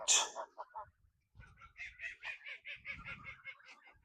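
Two geese on a farm honk back and forth in a quick series of nasal calls, fairly faint and close, with a few rustles and footsteps between them.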